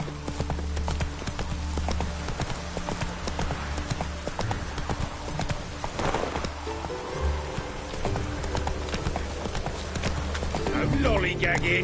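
Rhythmic hoofbeats of Roach, the horse in the Witcher 3 video game, galloping steadily and close throughout, with game music and a brief whinny underneath.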